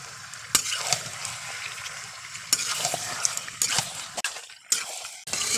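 Chicken pieces frying in a pan while being stirred, a continuous sizzle broken by sharp clanks and scrapes of a spoon against metal, close up and without speech.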